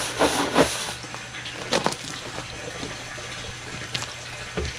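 Water from a new 12V pump runs into a 100-litre lawn sprayer tank, a steady hissing pour with a few louder splashy surges near the start and later, close by with no talking.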